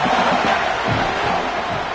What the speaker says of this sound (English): this crowd trying to help keep them there